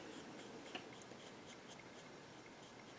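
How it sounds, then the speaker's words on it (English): A bullet-nib marker coloring on card stock, faint rhythmic scratchy strokes repeating steadily back and forth, close and quiet with no talk. "I'm just going to take it out and use it as a regular marker. And I'm using the bullet nib."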